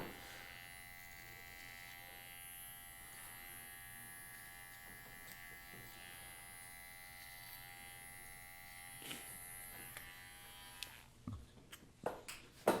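Electric hair clippers buzz steadily and close while trimming an undercut during a mullet haircut, a continuous hum with a few sharp clicks and knocks near the end.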